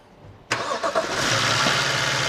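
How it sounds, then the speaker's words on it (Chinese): A BMW 7 Series engine, freshly repaired after water got into it, cranks and catches abruptly after a moment of quiet, then settles into a loud, steady running roar close by. "现在把油水一加就可以点火了。 现在在启动啊"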